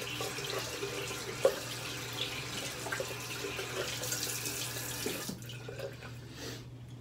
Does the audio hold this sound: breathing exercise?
no